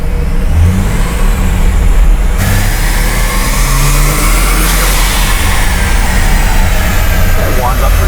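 A Ford XR6 Turbo on a dyno revs hard and loud throughout, the engine note climbing and shifting with a sustained roar, while people talk over it.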